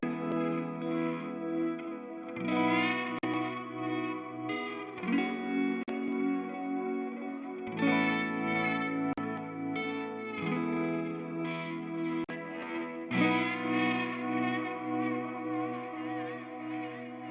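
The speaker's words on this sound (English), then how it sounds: "Now let's take electric guitars, which are in these middle 8, there's 4 of them playing, actually 6, and on 4 of them I've used Satson CS." Several layered electric guitars run through the Sonimus Satson CS console plugin in an SSL 4000-style mix, playing sustained chords in phrases of about three seconds with chorus and echo effects, loud and continuous without talk.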